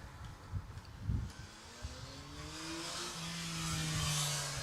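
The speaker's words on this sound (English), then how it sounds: "There's another motorbike hero. Another statistic has just passed us." A motorbike drones past a T20 cricket match in Estonia with a rising then falling pitch, growing louder and fading, over a low background rumble.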